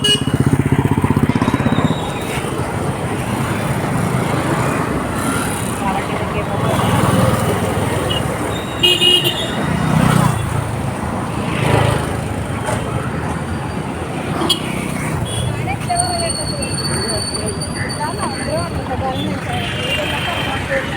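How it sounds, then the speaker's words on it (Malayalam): Heavy road traffic rumbles steadily at a busy crossing, with engines passing near and brief horn tones, while a person talks over the constant din. "ക്രോസ് ചെയ്യാനൊരു ടാസ്ക്കാണ് കേട്ടോ. ഭയങ്കര വണ്ടിയാണ്."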